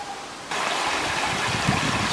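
An overflowing stream with swollen, rushing water, a loud continuous wash of turbulent flow that starts abruptly after a quieter half-second and stays steady and close.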